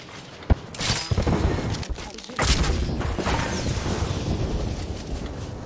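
Heavy explosive blasts from an airstrike in a shooter video game, a sharp hit early on and then a loud rumbling barrage that carries on to the end, with dense crashing debris.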